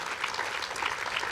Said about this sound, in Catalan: Un aplaudiment per a l'alcalde d'Orba.